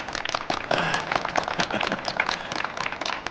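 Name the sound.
students applauding a new teacher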